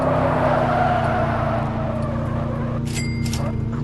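A car engine drones at high revs in a racing video game, a steady loud mechanical hum with a brief tonal electronic chirp toward the end.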